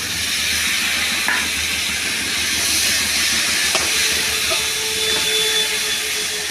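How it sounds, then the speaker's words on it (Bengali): Ground cumin, coriander and a little soaked turmeric fry in oil while being stirred, giving a dense, constant hiss with a few faint clicks from the spoon. "একটা তেলের মধ্যে নাড়াচাড়া করবো ভালো করে।"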